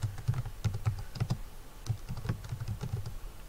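Quick bursts of keystrokes on a computer keyboard as a folder name is typed, close and clear, in uneven clusters with short pauses between them.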